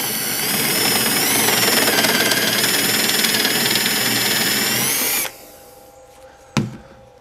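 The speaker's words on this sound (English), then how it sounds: "drill our hole" A power drill whines loudly and steadily for about five seconds boring a hole in MDF, then stops abruptly, followed by a quiet room and a single short knock.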